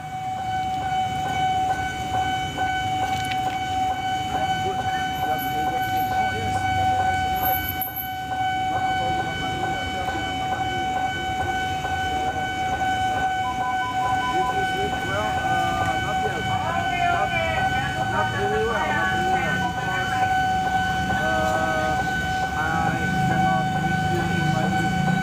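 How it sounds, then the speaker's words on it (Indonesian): A train passes the Pondok Jati rail crossing, its rumble and horn blending with a steady crossing warning bell and a loud background tone over a long, continuous stretch. "Kita lihat kereta apakah yang akan menggeliat."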